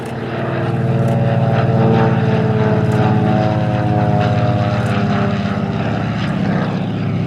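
A propeller warbird flies past at the Sywell Airshow, its piston engine giving a loud, steady droning growl with a rich harmonic buzz that swells and holds close by, heard alone without talk.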